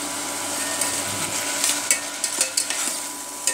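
Tomatoes and slit green chillies frying with paste for biryani give a bright steady sizzle, broken by several quick scraping stirs of a spatula in the pan, close and without speech.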